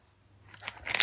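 Scissors from a dollar store snip a few times while a toy lightsaber is being assembled, the crisp cuts building up and close toward the end after near silence.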